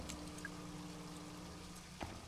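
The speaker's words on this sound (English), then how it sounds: "Wait, didn't I shut the fucking water off?" Running water in the video game Hold Up - This Ain't Didneyworl, a faint steady pouring trickle under a low hum, with a couple of brief drips or clicks.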